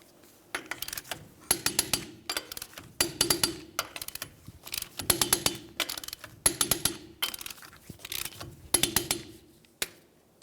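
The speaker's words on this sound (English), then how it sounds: "let's torque these in a crisscross manner." A torque wrench ratchets on the rear wheel lug nuts of a 2010-2013 Ford Transit Connect, tightened crisscross to 100 foot-pounds: close bursts of quick metallic clicks, each burst separated by a short pause.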